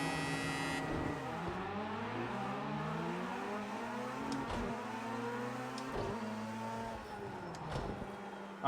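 A rallycross car in a racing video game, on a track in Norway, holds a loud, steady engine note that rises and falls through gear changes, with a few sharp shift blips and no talking.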